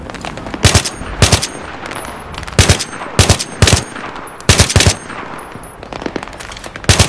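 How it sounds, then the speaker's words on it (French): Machine guns lay down suppressing fire in the Battlefield 3 video game: repeated short, loud, sharp bursts of automatic gunfire at an uneven rhythm over a constant rumbling battle background. "Tir de suppression!"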